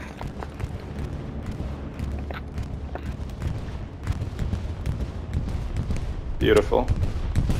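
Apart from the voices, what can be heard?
bombing run explosions in a video game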